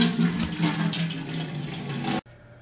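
Water gushes steadily from a tap into a brewing pot, roughly 4.5 gallons, a loud continuous stream that stops abruptly, leaving quiet room noise.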